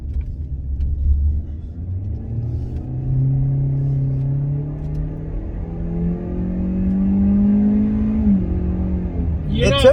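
2022 Hyundai Elantra SEL pulling hard in sport mode, the engine rumbling low and then climbing steadily in pitch through a long rev, with a shift near the end. A voice is heard near the finish.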